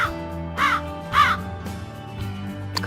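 Three loud, harsh crow caws in a steady rhythm, set over a soft background music bed in a children's animal-guessing game.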